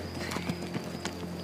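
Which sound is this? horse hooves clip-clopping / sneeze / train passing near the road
horse hooves clip-clopping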